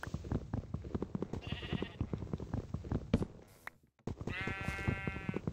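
Minecraft sheep give several short nasal bleats, close and clear, over a dense run of in-game tapping and footstep-like clicks, with a sudden brief silence before a final louder bleat.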